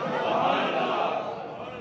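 A crowd at a Muharram religious gathering chants a slogan together, a sustained massed roar of many voices held steadily for a couple of seconds, dense and loud throughout.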